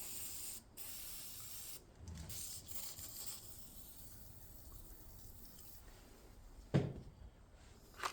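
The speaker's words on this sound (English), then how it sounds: "I'm going to spray a tiny little bit of WD-40 in here" A short hiss of WD-40 aerosol spray into a Stihl HS82RC hedge trimmer's pull-cord spring near the start, followed by quiet handling noises and a sharp knock toward the end.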